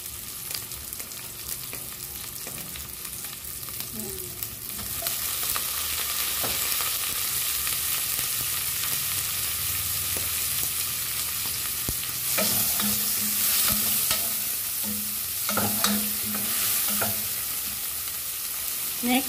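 Tomatoes are tipped into a hot pan with onion and garlic and sautéed, raising a loud continuous sizzle over close stirring and scraping that grows denser partway through, with occasional clinks.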